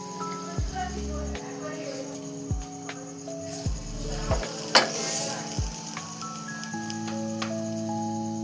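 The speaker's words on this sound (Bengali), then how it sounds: "এবার এটাকে বাটারে দিয়ে হালকা করে ফ্রাই করব।" A veg sandwich frying gently in butter over a low gas flame, a steady crackling sizzle with scraping and stirring clicks throughout, close up, under a continuous musical background.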